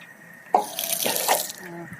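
An outdoor water tap turns on abruptly to fill a dog bowl, a close splashing gush of water that keeps running evenly for a couple of seconds.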